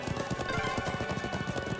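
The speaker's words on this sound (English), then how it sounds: "I'm glad I still remember how to ride a horse." Horse hooves galloping in the video game Trails of Cold Steel II, a steady fast clip-clop rhythm of repeated hoofbeats that stays close and even over a bed of game music.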